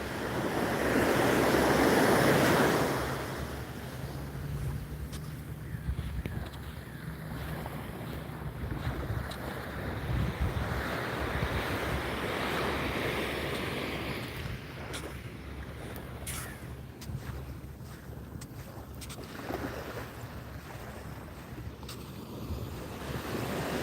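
Ocean waves wash ashore on a beach under gusting wind, with heavy wind buffeting on the microphone at the start and a continuous roar of surf throughout, no voices.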